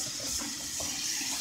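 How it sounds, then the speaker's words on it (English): Tap water runs continuously, rinsing starch off cooked macaroni in a sink, with a steady close splashing hiss and no talking. "just rinse the starch out of this macaroni"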